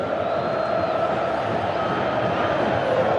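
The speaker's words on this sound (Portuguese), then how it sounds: "E a torcida vivendo um êxtase nesse Maracanã lotado." A packed Maracanã stadium crowd of football fans roars in ecstasy during a Flamengo versus Internacional Libertadores match, a dense, steady wall of cheering and shouting that holds at full volume throughout.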